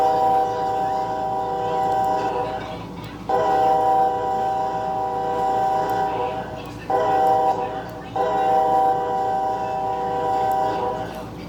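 BNSF locomotive sounding an ST-78s air horn, a multi-chime chord blown in three long loud blasts with short gaps, over steady rail rumble.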